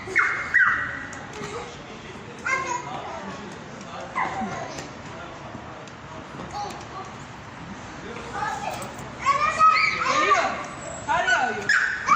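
Several short yips and barks from a dog, scattered through the clip and clustering near the end, heard over ongoing chatter and laughter from people nearby.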